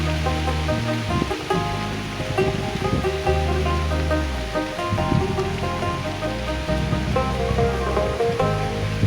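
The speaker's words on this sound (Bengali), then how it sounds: "দূর পারতেও বৃষ্টি ঘন হয়ে আসতেছে ভারী বর্ষণ শুরু হয়ে গেছে" A steady, dense roar of heavy rain pours down without pause over a Bangladeshi village, with a low droning hum running underneath.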